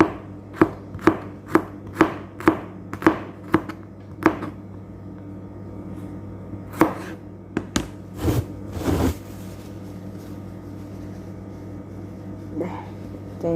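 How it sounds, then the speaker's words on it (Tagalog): Garlic being sliced into small pieces on a board, a run of about a dozen crisp knife chops in steady rhythm at first, then sparser cuts and a faint voice over a low hum. "itong bawang naman ang isunod natin ha. Slicein din na maliliit guys."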